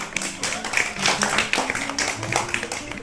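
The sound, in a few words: children clapping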